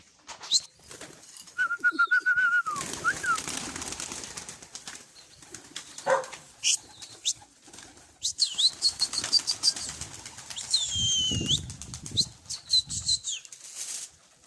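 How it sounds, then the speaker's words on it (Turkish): Pigeons take off and flap their wings in several bursts, with coos and chirps between, close by and fairly clear outdoors. "Kuş çok güzel. Uçuyor"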